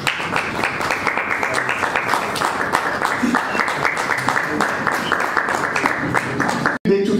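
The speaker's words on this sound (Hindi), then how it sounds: "आप सभी लोगों से रिक्वेस्ट करूंगा कि जोरदार तालियों से उनका स्वागत कीजिए" Sustained audience applause at a Marathi devotional album launch event, a dense steady wash of many hands clapping filling the hall, with voices mixed in beneath and a brief cut near the end.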